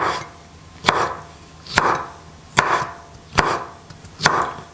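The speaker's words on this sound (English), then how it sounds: "It's the olives. So I'm going to cut these like into very small slices." A knife cuts olives into very small slices on a board, five sharp, evenly spaced chopping strokes close up, each a crisp knock with a short scrape, with no talking.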